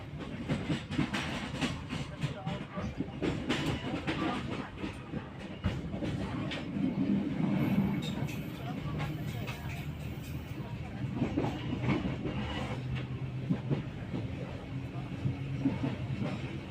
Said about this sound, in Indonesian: Dengan kedatangan KA Pandanwangi di stasiun Garahan